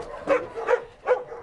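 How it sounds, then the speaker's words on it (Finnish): A dog barks three times in an even rhythm, each bark short, close and fairly loud against a quiet background. "ne koira"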